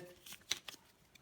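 A deck of playing cards gets a brief, faint shuffle during a solo Worldbreakers card game, heard as a few soft riffling flicks at close range.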